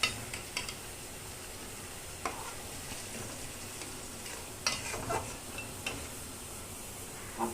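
Nihari cooking in a pot, a soft steady sizzle close by with occasional stirring scrapes and light clinks of a utensil against metal, fairly quiet and with no talking.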